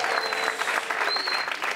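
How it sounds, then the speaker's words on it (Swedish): Steady audience applause fills a comedy show, a dense, even wash of clapping from a crowd with a faint tone running underneath. "Jag ska egentligen inte ha applåder för det."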